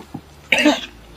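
A person coughs, first a small throaty sound, then one loud, harsh cough up close in a quiet indoor scene.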